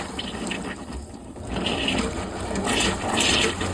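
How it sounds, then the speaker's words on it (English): Water runs steadily from a faucet as antifreeze is flushed out of the plumbing lines, a close, continuous gushing rush that swells slightly partway through. "Run the water until antifreeze is mostly gone and you have a clear flow."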